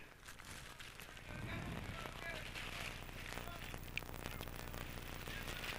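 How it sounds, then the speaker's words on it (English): Steady rain hissing down on an outdoor baseball field during a summer game between Post 31 and Brattleboro, a constant broadband wash that thickens after the first second, with a commentator talking over it. "it is raining out now"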